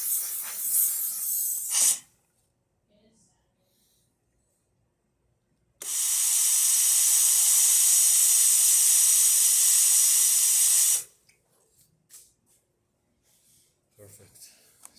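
A Breville Oracle Touch espresso machine's steam wand bursts into a loud, steady hiss for about five seconds in the middle, then cuts off sharply. Brief hissy noise and quiet sounds come before and after.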